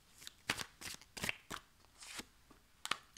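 Tarot cards being shuffled and drawn, a series of crisp papery riffles and slaps in uneven bursts, close and fairly quiet, with no talking.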